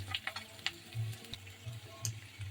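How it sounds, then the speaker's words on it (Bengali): Chopped tomato going into hot oil with chili, ginger and asafoetida, a low steady sizzle with soft stirring clicks and small pops scattered through, close and quiet, no talk. "খুব সুন্দর করে লঙ্কা আদা হিংটা ভেজে নিতে হবে এই যে বাজা হয়ে গেছে এখন আমি দিয়ে দিচ্ছি এখানে কুচানো টমেটো"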